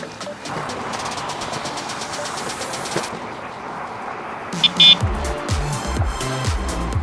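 An Actbest Super X moped-style e-bike rides off-road, with a rattling, clattering chassis and tyres crunching over rough ground, steady and close, then a few sharper knocks and bumps toward the end.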